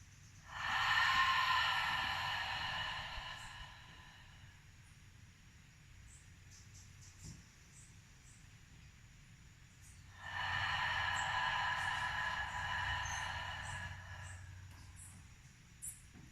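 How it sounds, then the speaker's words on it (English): Slow, deliberate breathing paced to a three-count, with two long, airy, close breaths roughly ten seconds apart, each lasting a few seconds, separated by quiet. "I'm going to take 3 counts to breathe in, and then I'm going to take 3 counts to breathe out."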